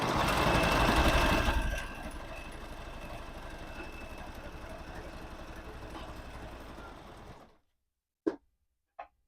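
A sewing machine stitching rapidly in a steady mechanical whir, close and fairly loud, with a brief louder burst at the start, then stopping abruptly, followed by two short clicks.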